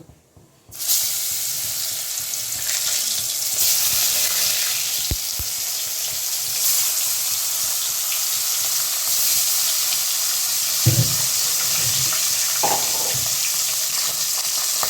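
Koi fish frying in very hot oil in a Bengali kitchen, a loud, steady sizzle and crackle that starts abruptly and continues throughout, with a few brief clinks from a utensil near the end.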